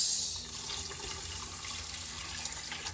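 Tap water runs steadily into a measuring cup for cooking rice, a close, continuous hissing splash that holds at an even level throughout with no talking over it.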